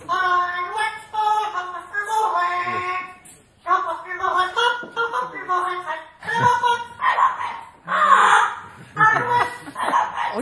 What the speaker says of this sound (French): on a une petite bande-son d'un perroquet qui chante, une chanson que tout le monde connaît